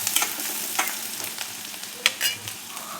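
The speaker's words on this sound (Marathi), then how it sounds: "कांदा परतला आपला" Chopped onion sautéing in a pan for a fenugreek and moong dal dry dish, with a soft continuous sizzle and several sharp scraping stirs of a spatula against the pan.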